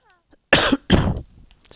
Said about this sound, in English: Don't know why the cough seems to be really bad today.